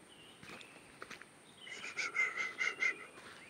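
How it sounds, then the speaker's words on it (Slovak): Birds sing in a forest, a few short bright chirps at first, then a quick run of repeated whistled notes rising in loudness, faint and fairly distant over a quiet hush, with no talking. "počujete celý ten orchester vtákov ako hraje"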